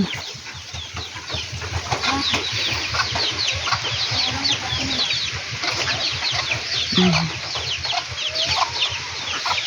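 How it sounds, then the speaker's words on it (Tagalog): Chickens at a village poultry farm cluck and chatter continuously and close by, with a few louder squawks standing out over the busy flock. "Ang dami nilang manukan pala eh."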